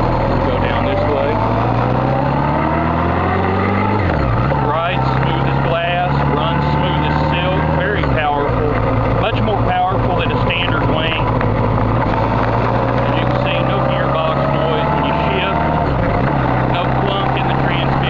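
A 1983 Honda Goldwing motorcycle rides along, its engine droning steadily and loudly, with pitch rising and dropping as it shifts through the gears.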